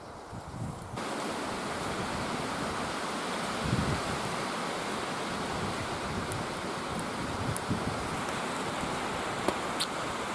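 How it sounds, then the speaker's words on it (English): Wind blows outdoors at a bow-drill fire site, a steady, loud broadband roar buffeting the microphone throughout, with a few faint ticks and no talking. "Hope you can hear me over the wind."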